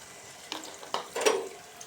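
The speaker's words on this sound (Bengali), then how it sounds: "তেলের ভিতর দিয়ে দিলাম বাটা মশলা" Ground spice paste dropped into hot oil, giving a few quick bursts of frying and sizzling with stirring, close and fairly loud, fading back to a low hiss.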